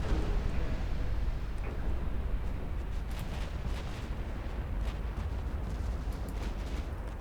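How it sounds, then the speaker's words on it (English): Torpedoes striking warships in the naval strategy game Ultimate Admiral Dreadnoughts produce a continuous heavy rumble of low booms and blasts. The sound is loud and dense throughout and fades slightly toward the end. "There we go, torpedoes are landing."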